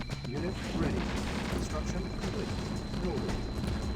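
Artillery pieces fire in Command & Conquer: Red Alert, a steady barrage of booming shots and blasts rolling under busy battlefield noise throughout.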